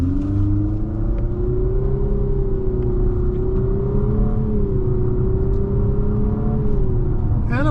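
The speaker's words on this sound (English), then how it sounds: "Now we're going to put in the manual and we'll take off." A 2025 Infiniti QX55 with a VC turbo engine pulls away from a stop, its steady engine drone rising and falling gently as it accelerates through simulated CVT shifts, heard from inside the cabin with constant road rumble underneath.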